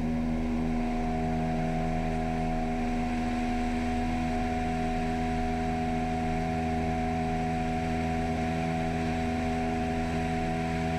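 Light aircraft engine at full power during the takeoff roll, a loud steady droning hum with strong sustained tones and no letup, heard close from the cabin with no talking.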